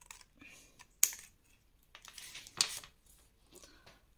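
Scissors cut paper for a scrapbook explosion box, giving two crisp, quiet snips about a second and a half apart with soft rustling between them.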